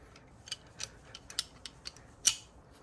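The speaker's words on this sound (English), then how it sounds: "Just press it with a pair of pliers." Pliers squeezing a hose clamp on a Mini Cooper S, giving a series of light metallic clicks and ticks, a few soft ones spaced out and one sharper snap near the end, close up with no talking.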